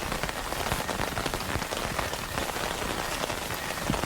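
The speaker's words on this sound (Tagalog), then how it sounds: "Sarap ng tunog ng ulan, no? Nakaka-relax." Steady rain pattering on a surface at a mountaintop solo overnight campsite, a dense, continuous patter with scattered closer drops, fairly loud and unbroken with no voices.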